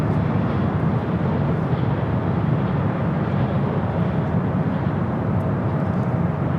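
Steady, loud jet roar from an Emirates airliner at Los Angeles airport, a broad continuous rumble with no break and no voices, close and constant throughout.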